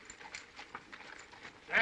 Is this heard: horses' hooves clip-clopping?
yes